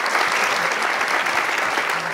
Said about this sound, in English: can you give a big round of applause for these 2 amazing people here on stage?